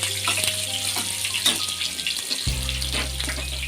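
Onions fry in hot oil as tempering for a buttermilk sambar, a steady close sizzle over a low electrical hum, with a faint scrape or two and no voices.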